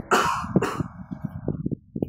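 A person with tuberculosis symptoms coughs sharply a couple of times, close and loud, followed by rough throat-clearing and breathy sounds.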